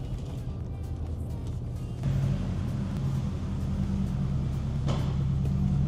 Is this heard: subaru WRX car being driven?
yes